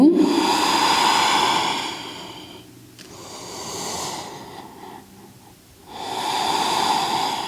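Slow, deep yoga breaths held in downward dog pose, with long hissing inhales and exhales rising and falling close to the mic in steady cycles, no talking.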